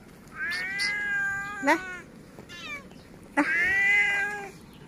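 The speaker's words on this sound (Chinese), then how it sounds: "这个小猫" A small stray cat meows repeatedly, several drawn-out close cries with short gaps, one near the start and a louder pair later; a brief call from someone coaxing the cat can be heard.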